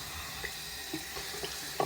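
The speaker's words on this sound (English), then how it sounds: "just rinse out the soap compartment and letting it drip" Tap water rinsing out the soap compartment of a pre-WW1 J.R. Torrey straight razor, a soft, steady running-water wash with a few small splashy drips, close and quiet, no voices.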